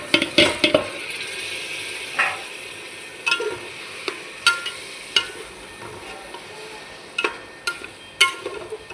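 Biryani rice being sautéed with spices in a pan for an egg biryani, heard as a run of close, irregular scraping stirs and clinks over a soft, steady sizzle, with no talking.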